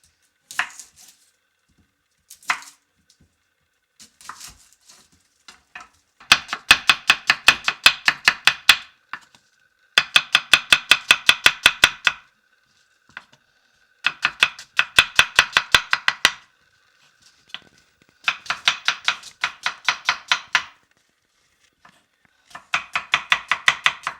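Onions are chopped on a cutting board, a few single knife strikes giving way to fast rhythmic bursts of close, crisp chopping separated by short pauses.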